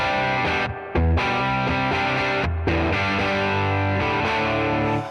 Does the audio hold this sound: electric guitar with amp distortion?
yes